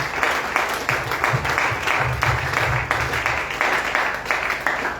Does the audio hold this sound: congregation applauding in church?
yes